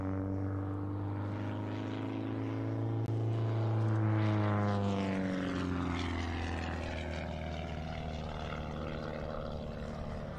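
An aerobatic propeller plane flies a double avalanche at the SUN 'n FUN 2021 airshow, its engine droning loud and steady, then rising and falling in pitch as the aircraft sweeps past overhead.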